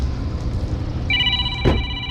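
A telephone rings in a short electronic burst on a rooftop beside a leaking rooftop HVAC unit, heard over steady mechanical hum and water noise.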